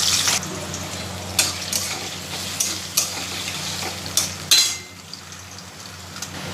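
Potatoes fry with cumin and black nigella seeds in a pan, a steady close sizzle with several sharp stirring scrapes and clatters, easing to a quieter hiss near the end.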